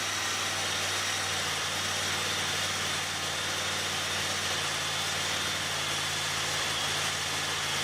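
A Honda Talon side-by-side engine holds a steady 2,000 RPM, a constant mid-pitched drone with an even hum that stays unchanged and fairly close throughout, with no talking.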